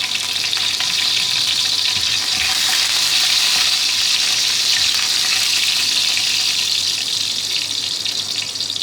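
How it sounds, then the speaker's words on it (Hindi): Cumin seeds, cinnamon and a few curry leaves sizzling in hot oil for a fried dish, a loud, continuous close hiss of frying that holds steady throughout with no one talking. "ये ज़ीरा और ये दालचीनी इसमें जाएगी। ये 4-5 पत्ते कड़ी पत्ता है खुशबू के लिए।"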